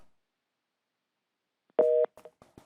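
Short telephone tone burst on a failed call-in connection to a live TV stock-consultation program, a steady two-pitch tone lasting about a quarter second, followed by a few brief clicks and line noises, with no talk.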